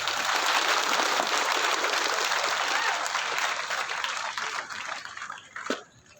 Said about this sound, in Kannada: ಹಾ, ಚಪ್ಪಾಳೆ ಎಲ್ಲರೂ ಜೋರಾಗಿ ತಟ್ಟಬೇಕು ಅಲ್ವಾ?